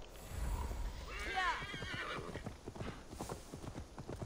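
Horse hooves clip-clopping at a fast gallop in Assassin's Creed Valhalla, a fully upgraded mount, with a whinny early on and steady rhythmic hoofbeats, while someone talks over it.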